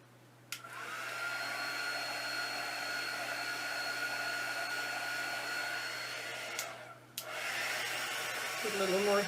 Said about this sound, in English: This is what you call a heat wand or an embossing wand.